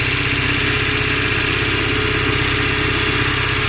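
Oka engine fitted to a homemade all-terrain vehicle idles steadily, warmed up after an overhaul, with an even low pulsing throb and mechanical clatter filling the whole stretch, close and loud with no talk.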